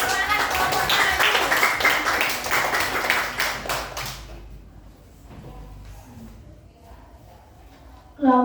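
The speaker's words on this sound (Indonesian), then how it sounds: "Tepuk tangan dulu anak-anak." Third-grade schoolchildren at an elementary school clap together in class, a loud burst of quick claps for about four seconds, then quieter room sounds, small knocks and faint voices follow.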